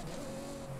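Ferrari FXX-K engine from the racing game Forza Horizon 5, a faint, brief, sustained high-pitched whine from the car at speed.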